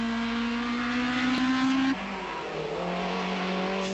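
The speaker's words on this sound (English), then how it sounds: "Car number 3 is Toyota's second 4-wheel drive team of Eric Sanders and Tilo van Westenhagen." A 1990 Toyota four-wheel-drive rally car runs a South African rally stage, its engine droning loudly and close, with a gear shift and a drop in pitch midway.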